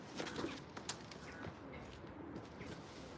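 Racing pigeons in a loft coo softly amid faint rustling and scattered wing flutters, quiet and somewhat distant, with no talking.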